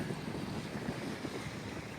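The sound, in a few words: wind blowing at the lakeside campsite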